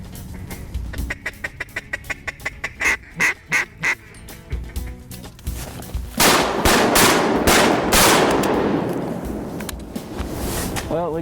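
Shotgun firing 2 3/4-inch heavy steel number 3 shot on a duck hunt: a series of rhythmic duck calls gives way to sharp booming blasts, with voices and quacking mixed in close by.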